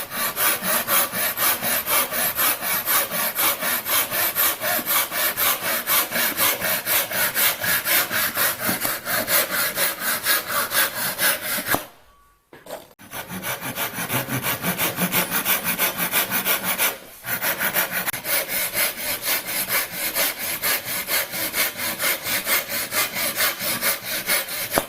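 A hand saw cuts through wood for a toolbox in a woodworking class, with steady rapid back-and-forth rasping strokes, a brief pause midway and another short break, then continued sawing up close.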